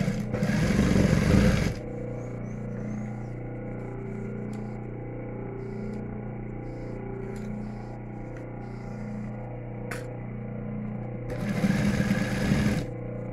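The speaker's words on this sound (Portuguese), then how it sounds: "Agora é só passar uma costurinha aqui e uma costurinha aqui. Vou até mostrar aqui na máquina para vocês." Sewing machine stitching elastic onto a fabric face mask, a steady close mechanical whir running throughout, with brief louder handling bursts at the start and end.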